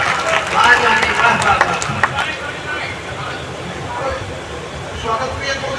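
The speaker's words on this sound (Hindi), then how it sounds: "तालियां बजाओ।" Audience clapping at a Hindi poetry gathering (kavi sammelan) on a Ram Katha stage in Lakhimpur, a burst of crowd applause that fades into murmuring babble and background noise.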